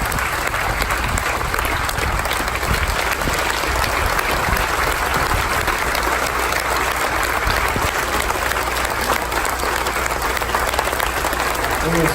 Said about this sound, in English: let's give them one more standing ovation